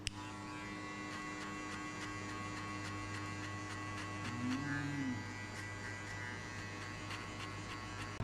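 An electric hair clipper buzzes steadily and close during a buzz cut, a constant droning hum with a slight dip in pitch midway through.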